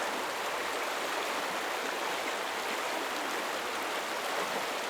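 Small creek in Northern Ontario flowing over a boulder garden, a steady, even rush of water held at moderate level throughout, with no talk.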